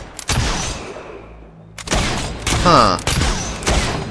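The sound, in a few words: gunfire from the video game Fable 3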